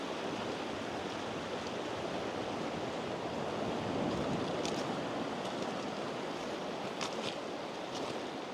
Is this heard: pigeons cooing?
no